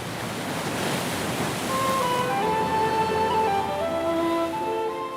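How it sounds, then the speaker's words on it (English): Sea waves washing onto a shore in a steady, loud roar of surf with gusty wind across the microphone, while faint sustained musical tones rise in the background toward the end. "I've always loved the sound of the sea."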